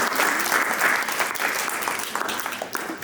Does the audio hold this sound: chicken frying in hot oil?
no